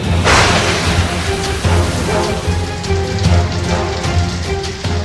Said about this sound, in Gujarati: ઉત્તર ગુજરાતમાં જામ્યો વરસાદી માહોલ